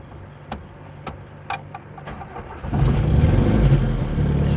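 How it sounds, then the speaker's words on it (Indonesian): A used car's engine is started: a few sharp clicks and ticks come first, then the engine catches and settles into a steady, close idle rumble. "starterannya mudah"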